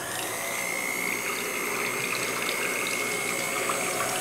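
An electric mixer beats homemade alcohol soap as alcohol is poured in, giving a continuous whirring motor whine over a steady wash of churning, sloshing liquid, close and even throughout.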